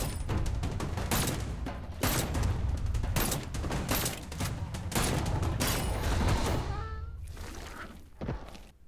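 Rapid bursts of gunfire in the Seeking Dawn VR shooter, loud repeated shots with thuds and impacts in irregular clusters, tapering off near the end into quieter game sounds.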